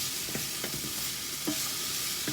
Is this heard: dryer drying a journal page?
no